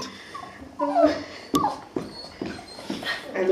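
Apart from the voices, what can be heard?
dog whimpering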